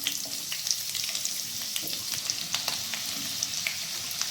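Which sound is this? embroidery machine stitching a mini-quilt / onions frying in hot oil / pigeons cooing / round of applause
onions frying in hot oil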